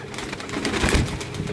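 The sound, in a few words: pigeons cooing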